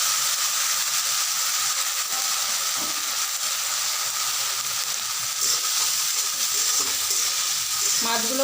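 Prawns fry in hot oil for lau chingri, a loud, dense, continuous sizzle and crackle heard up close, steady throughout with a few brief clinks of a utensil near the end.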